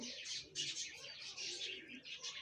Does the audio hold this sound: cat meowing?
no